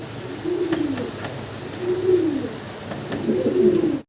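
Large pigeons coo in a soft, repeated rolling rhythm, with three distinct coo phrases rising and falling close by, and no other voices.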